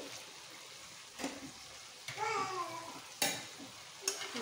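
Mixed river fish curry with vegetables being stirred in a pan with the lid lifted, giving a few scraping stirs and clinks over a soft sizzle, close and fairly quiet.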